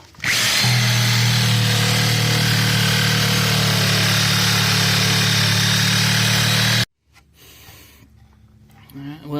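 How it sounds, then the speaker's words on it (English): A jigsaw cuts a sink basin hole into a camper's countertop. It runs loud and steady with a strong low buzz for about seven seconds, then stops abruptly, leaving quieter handling noise. "Alright, jigsaw time. To the pilot hole."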